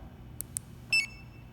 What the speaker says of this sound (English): the vehicle locks, you get your beep and your green flash letting you know that it did lock